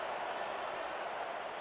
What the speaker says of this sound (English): you can hear the crowd now